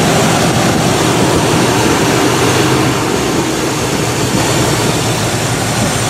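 A Buick car engine revs steadily, a broad continuous rumble that holds without breaks throughout, loud and close, with no voices over it.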